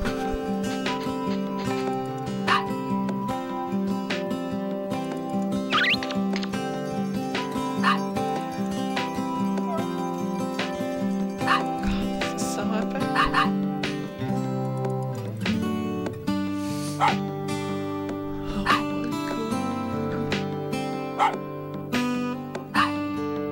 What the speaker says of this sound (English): Yay, doggies.